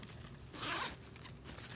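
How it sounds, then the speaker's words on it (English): A zipper on a Kipling purse is drawn open in one quick, close rasp, quiet and alone. "And then also here is another zipper."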